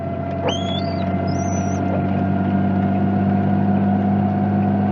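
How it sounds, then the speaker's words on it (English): High, thin squeaks from worn windshield wipers rise and slide over a steady idling engine hum inside an RB20DET-swapped Nissan S13 240SX, two or three brief squeals early on, then just the drone. "You'll have to put up with the squeaking wipers as well."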